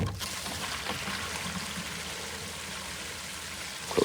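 Water flushes through an RV black tank, a continuous rushing, gurgling flow held at an even level for several seconds, with no talk over it.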